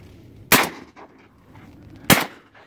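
Two loud shotgun blasts fired during a swan hunt, about one and a half seconds apart, sharp and close outdoors with little else between them.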